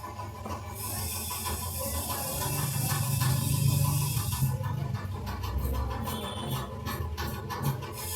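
Scissors cutting blouse fabric for a high-neck princess-cut blouse, a steady rough scratching and rasping of blades through cloth that swells and continues without pause, close and moderately loud with no talking.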